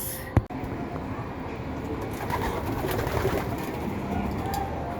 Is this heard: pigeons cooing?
yes